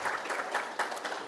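Audience applause at a college convocation: a dense, steady wash of many hands clapping together, fairly loud and close, with no talk over it.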